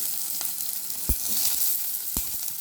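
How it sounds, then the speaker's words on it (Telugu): Carrot, potato and capsicum fry in a pan, with a continuous sizzle broken by a couple of sharp knocks, likely a spatula stirring, close by with no talk. "ఇప్పుడు క్యారెట్ బంగాళదుంప క్యాప్సికం వేసి వేగించుకోవాలి"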